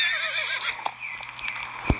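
A North Swedish horse in a horse video game lets out a loud, close whinny that wavers and fades, followed by a short snort near the end.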